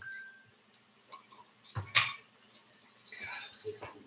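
Metal pot lid clinking against a cooking pot while making mini Dutch babies, a few light clatters and a brighter metallic clank, with faint kitchen noise between.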